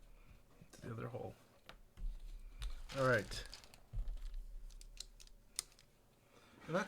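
Clacky typing on a Tex Shinobi mechanical keyboard, heard as irregular key clicks between louder handling noises and a brief spoken remark.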